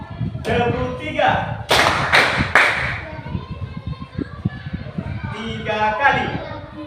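Children clap their hands three times in quick, even succession, sharp and close, with an adult voice speaking before and after the claps.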